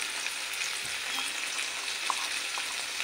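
Crushed ginger and garlic, pounded in a mortar, go into hot oil in a frying pan for a soybean curry, giving a steady, close sizzle with light stirring scrapes throughout and no talking.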